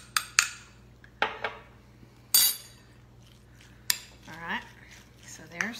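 A spoon clinks against a glass jar and bowl as pickle relish and its juice go into tuna salad, a few sharp separate taps with brief scraping and quiet pauses between them.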